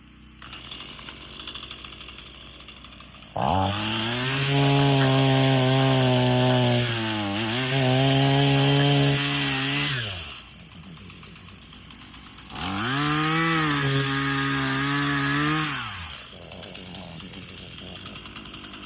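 Chainsaw cutting through wood while clearing brush along a homestead fence line, two loud sustained bursts of revving engine separated by a quieter idle, close to the microphone with no talking.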